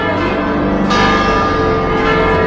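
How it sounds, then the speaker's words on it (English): Church bells in Spain ring loudly and close by, their rich overlapping tones sustaining and layering, with a fresh strike partway through. "The bells. The bells."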